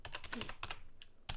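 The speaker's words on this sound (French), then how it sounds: "J'appuie sur Entrée" Quick, close keyboard taps in animation software, a short run of keystrokes ending in a firmer press of the Enter key on a computer keyboard.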